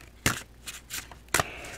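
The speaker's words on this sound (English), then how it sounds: "And I'm going to shuffle this deck." A deck of Native American oracle cards being shuffled, with two sharp riffling bursts and softer card rustles between them, close and clear with no talking.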